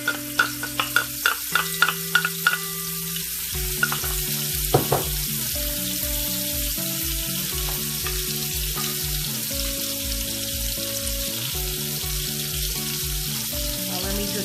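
Herring frying in hot oil in a pan over medium-high heat for shrimp and herring pasta alfredo, with a steady close sizzle and a string of sharp clinks and scrapes early on as it is stirred.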